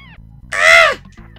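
A single loud, close caw from a fake bird in the video game Timon & Pumbaa's Jungle Games, a harsh crow-like call lasting about half a second over faint background game sounds.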